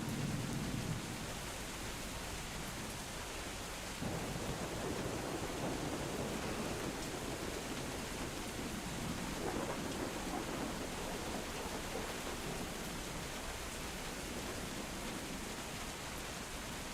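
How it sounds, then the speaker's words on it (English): Rain pours steadily outside as a dense, even hiss, with deep rumbles of thunder rolling under it and no voices present. "see if you can hear the rain on stream without me talking?"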